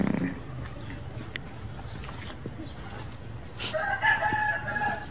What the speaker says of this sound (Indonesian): berkotaknya ayam sama ya, sama di Indonesia.